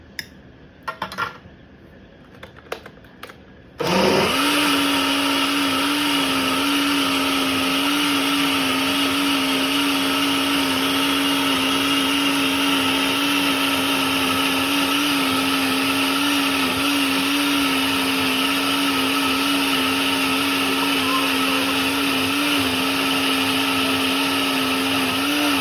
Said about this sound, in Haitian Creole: Ok, il besoin de faire blender tout petit.